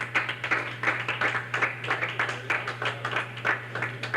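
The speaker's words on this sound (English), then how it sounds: "Big round of applause for Harry, ladies and gentlemen." Studio audience applauding a bowling challenger on a televised bowling game show, steady clapping throughout with a constant low hum underneath.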